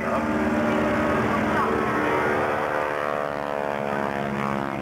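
A propeller aircraft drones steadily while doing a barrel roll at an air display, a loud, continuous engine hum with a slowly shifting pitch, heard at moderate distance with no talk.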